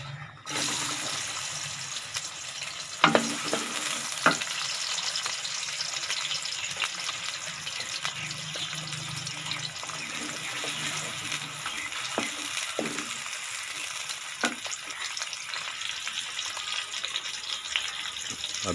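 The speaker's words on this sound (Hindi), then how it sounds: "घी जब गर्म हो जाए तो इसमें प्याज डाल देने।" Steady broadband sizzling and hissing of onions frying in hot ghee, with a few sharp clicks and clatters of utensils throughout.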